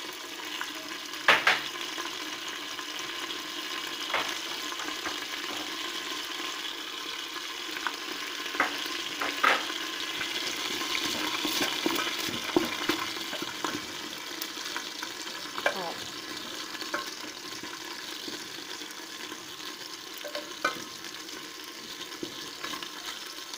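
Two cloves of garlic sauté in a pan with a continuous soft frying hiss and scattered light clicks and scrapes of stirring, fairly quiet and steady, with running water faintly mixed in.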